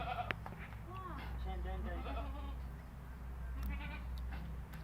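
Goats bleating around a doe giving birth to three kids, several wavering bleats close by in quick succession, with a person talking quietly over them.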